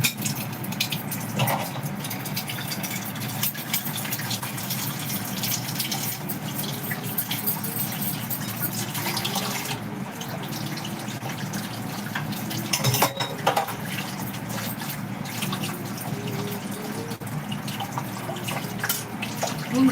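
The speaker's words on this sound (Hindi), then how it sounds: "चलो उसे डाल दो, गर्म पानी निकल जाए।" Hot water poured off cooked rice in a home kitchen, a steady close splashing and trickling with faint clinks of a metal pot throughout, no talk.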